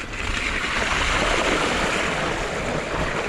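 Orbea Rise mountain bike splashing through a river crossing on a Snowdonia trail, a steady, loud broadband wash of churning water and wind noise sustained for the whole few seconds.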